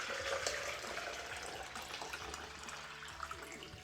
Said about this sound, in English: I'm just going to pour some of that back into my jug